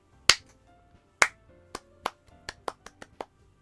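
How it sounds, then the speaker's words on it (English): Applause in Doki Doki Literature Club Plus as one person starts clapping: two sharp claps with a pause between, then a quicker run of lighter claps building up. "I'm the first one to start applauding."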